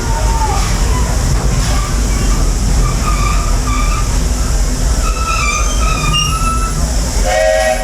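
A Walt Disney World Railroad passenger train rumbles and clatters steadily throughout, with a low continuous roar and faint tonal squeals, and a voice speaking over it.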